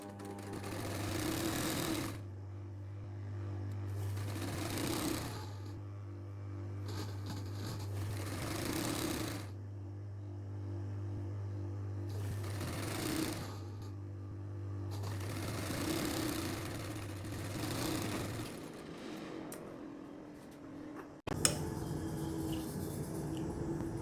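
A sewing machine stitches blouse pieces in several runs of steady whirring and rapid needle chatter, each lasting a few seconds with short pauses between, close and clear with no talking.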